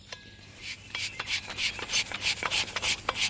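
A military surplus folding shovel is twisted tight by hand, making a close series of short gritty scraping and rasping strokes that build in loudness, with no talking.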